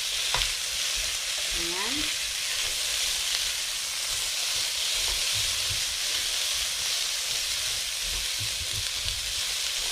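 Carrots and potatoes fry in a pan for a lapu-lapu fish empanada filling, giving a steady, close sizzle with a few clinks of stirring and a brief spoken word.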